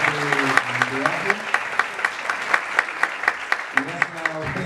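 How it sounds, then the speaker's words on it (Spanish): An audience at a 2017 parliamentary debate on migration in Chile claps in a steady, rhythmic beat, individual claps ringing out evenly while a voice talks over the applause. "agradecer ese aplauso, por favor, se lo requerimos a todos los candidatos"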